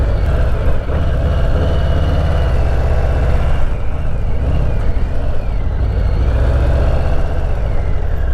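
A Harley-Davidson Softail touring motorcycle engine rumbling steadily at low speed on a rider training course, a loud, continuous low-pitched drone with no speech.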